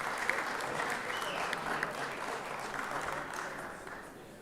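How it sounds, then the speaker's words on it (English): A room of legislators at a 2024 state legislative session applauds former Senator P.K. Martin, a sustained, fairly soft crowd clapping that stays even and then gradually tapers off near the end. "a round of applause"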